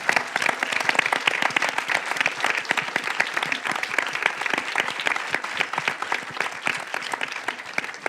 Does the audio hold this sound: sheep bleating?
no